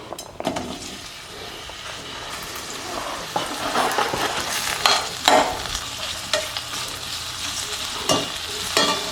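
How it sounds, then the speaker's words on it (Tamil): Onions sautéing in hot oil in a pan for veg noodles, a loud continuous sizzle broken by repeated stirring scrapes and clinks of the spatula against the pan, close up with no talking. "இந்தளவு ஆயில் சேர்த்துட்டு முதல்ல நம்ம வெங்காயத்தை வதக்கிக்கிறோங்க"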